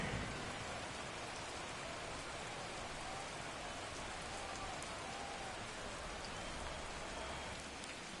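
Steady, dense rain falls at a football game, a constant loud hiss of drops on surfaces that fills the whole stretch with no voices.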